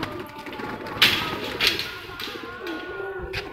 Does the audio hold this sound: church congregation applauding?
no